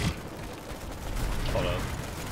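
Gunfire in the online shooter Planetside 2, muffled and distant bursts blended into a dense, noisy battlefield din with faint voice-like sounds mixed in.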